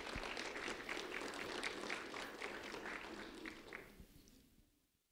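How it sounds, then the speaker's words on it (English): Audience applause at a ceremony honoring a second grade student, a brief burst of scattered clapping at moderate volume that fades out over about five seconds, with no clear talking. "Paisley Chapman, a round of applause for Paisley Chapman, please."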